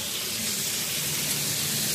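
Water pours steadily from a shower-type outlet at a mountain resort pool, a loud, continuous hissing splash that stays even throughout with no talking.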